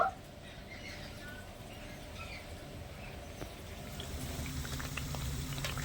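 Bread slices frying in oil for a sweet, a low, steady bubbling sizzle with a few faint clicks, fairly quiet and continuous, no speech.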